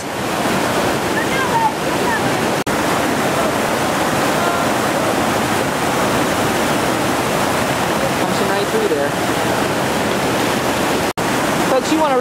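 Roaring whitewater pours over the second drop of Initiation Rapid on the Gauley River at low water, about 650 cfs, a loud, steady, close wash of churning water lasting throughout.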